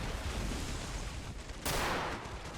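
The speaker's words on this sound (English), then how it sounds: "We have some autocannons back here doing what they can, firing 20mm shells at the British infantry storming the beach." Video game autocannons pump 20mm shells at British infantry storming a beach in an Allied invasion of Italy, a steady loud barrage of fire with a sharper burst near the end.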